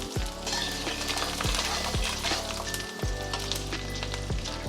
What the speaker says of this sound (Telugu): బాగా ఇవి మాత్రం బాగా వేగాలమ్మా.